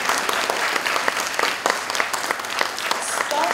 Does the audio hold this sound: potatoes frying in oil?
no